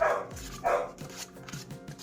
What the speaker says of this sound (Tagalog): Kasi medyo malaking aso kasi si Tanggol eh